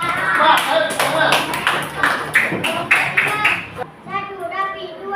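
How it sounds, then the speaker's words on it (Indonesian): A classroom of children clapping together for a group, a loud burst of applause lasting several seconds with children's voices mixed in, fading into a few scattered claps and chatter. "Tepuk tangan dulu untuk kelompok 4"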